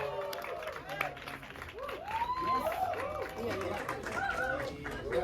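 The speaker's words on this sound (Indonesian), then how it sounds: "Tepuk tangan untuk Baim Wong." Crowd at a film gala premiere clapping and cheering, moderately distant, with chatter and an announcer's voice over the applause.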